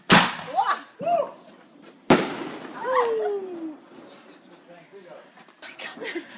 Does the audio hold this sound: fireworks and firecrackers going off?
yes